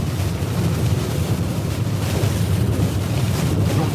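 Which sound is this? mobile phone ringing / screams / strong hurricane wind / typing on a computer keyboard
strong hurricane wind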